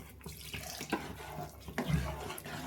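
Water poured into a mashed pea chaat mixture in a pan gives a short, steady running splash with a few clinks and thuds, fairly quiet and with no voices.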